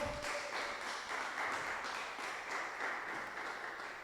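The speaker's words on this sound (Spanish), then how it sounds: "dele un aplauso fuerte al Señor" Sustained applause from a church congregation, a dense patter of many hands clapping together, fairly faint and distant, continuing without a break.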